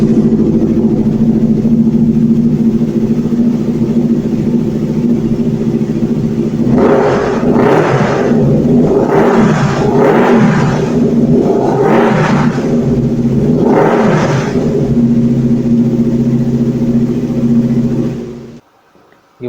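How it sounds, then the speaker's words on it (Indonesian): A 2016 Yamaha R25 motorcycle fitted with a racing exhaust idles with a steady low burble, then is blipped through about five sharp revs in quick succession, loud and close, before cutting off abruptly. "Berhubung ini motor kan dia pakai knalpot racing, jadi kita coba ya suaranya"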